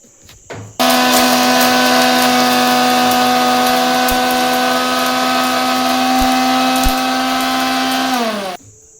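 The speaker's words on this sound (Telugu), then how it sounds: "యాలకులు లవంగాలు ఉల్లిపాయలు వేసుకొని మిక్సీకి అయితే పట్టాలి" A kitchen mixer grinder whirs steadily as it grinds cardamom, cloves and onions, its motor holding a loud, even hum for several seconds before spinning down and stopping.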